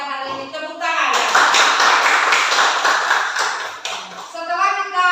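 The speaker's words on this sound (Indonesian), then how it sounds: "Untuk yang sudah belajar hari ini tepuk tangan ya." A class of children claps their hands together in a sustained burst of steady, dense applause lasting several seconds, loud and close, with a teacher's voice and young voices heard briefly before and after it.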